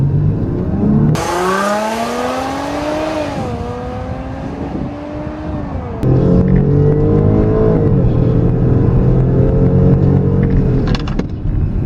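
A 2014 Dodge Durango R/T or Range Rover Sport SUV launches hard in a 0-60 mph drag run, its loud engine roar climbing steadily through several gear shifts and rising again after each one, heard from inside the vehicle with no talking.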